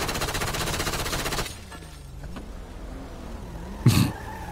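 Rapid gunfire bursts in a police video game, a dense clattering volley for the first second and a half, then quieter engine and ambient sounds with one sharp loud shot near the end.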